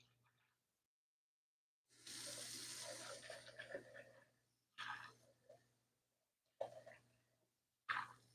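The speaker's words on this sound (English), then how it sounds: "You guys don't get to see me clean the rice, but you can clearly hear it." Rice is rinsed in water while cooking a dish from Food Wars, with a long burst of sloshing and swishing followed by several shorter splashes and pours separated by quiet gaps, close and fairly faint.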